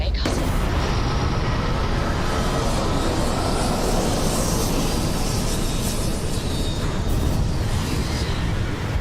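A spaceship setting down in the video game Starfield, a loud, steady roar of engine thrust that fills the whole stretch without pause, with a brief burst at the start.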